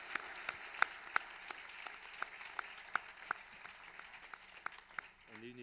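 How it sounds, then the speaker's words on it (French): Audience at an awards ceremony applauding the teaching team, with moderate, spread-out clapping and several distinct sharp claps near the microphone, tapering off toward the end as a voice begins speaking. "c'est aussi le moment de dire merci à Julie Herman et peut-être de l'applaudir"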